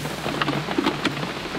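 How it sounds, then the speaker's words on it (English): Heavy summer thunderstorm rain pours outside a van, a steady close wash of downpour with faint rumbling thunder mixed in, no voices. "Oh, it's really coming down out there. A nice proper summer storm."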